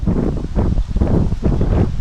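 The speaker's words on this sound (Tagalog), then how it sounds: "Mahangin na naman to ah." Wind buffets the microphone in heavy, rumbling gusts that swell and fade, loud and close throughout, beside a river in Taiwan.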